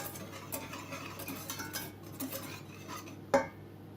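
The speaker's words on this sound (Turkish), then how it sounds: "Bunları bir tel çırpıcıyla karıştıracağım ilk önce" A wire whisk stirs sugar, flour and starch together in a bowl, giving a soft, continuous scratchy swishing with faint clinks, then one sharp tap against the rim near the end.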